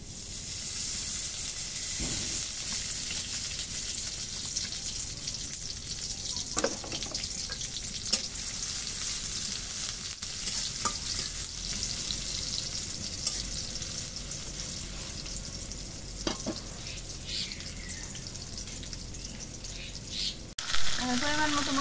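Onions sizzle in oil in a pan over a clay stove, a steady broadband frying hiss running throughout with a few scattered clinks of stirring, fairly close and continuous.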